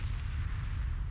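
Naval gunfire hits a cruiser in the warship game Ultimate Admiral Dreadnoughts, a faint, continuous low booming rumble of distant shell impacts with no voices.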